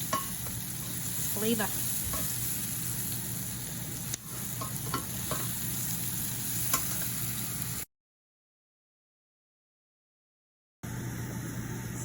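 Golden onions and garlic sizzling in a pan after a splash of wine is added to lift the fond, a steady close hiss with light utensil ticks and a brief gap of silence partway through.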